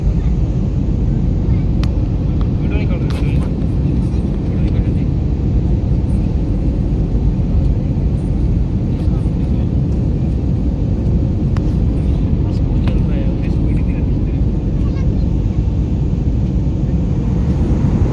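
A passenger airplane climbing to higher altitude drones from inside the cabin with a steady, loud low roar that stays unbroken, while faint voices can be heard underneath.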